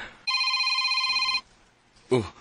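A telephone rings once, a steady buzzing electronic ring lasting about a second, loud and clear. It is followed by a short pause and then a brief vocal sound.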